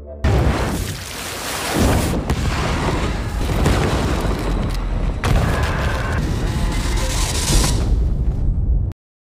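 Video game combat: a dense, loud barrage of booming blasts and rapid gunfire, continuous and chaotic throughout, cutting off abruptly near the end.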